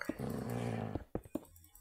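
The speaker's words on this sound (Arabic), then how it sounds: "في صوت كلب صراحة يفجع" A dog growls and whimpers inside a modded Minecraft game, a short low rumbling growl followed by a few sharp yelps, fairly faint and heard alone.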